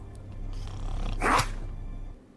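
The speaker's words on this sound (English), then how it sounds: "Thanos' dog impersonation." A character in a Nancy Drew video game does a dog impersonation, a single gruff bark-like growl rising out of a low background hum, close and moderately loud.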